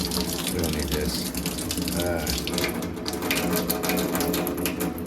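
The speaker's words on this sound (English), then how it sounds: "we're running water in there" Tap water runs steadily into a dirty sink in a machine shop, a continuous rushing gush at close range with faint clatter mixed in.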